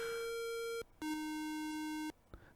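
An Atari 8-bit computer sounds two separate pure electronic tones, a shorter higher note then a longer lower one, each clean and buzzy with a gap between and faint background afterward.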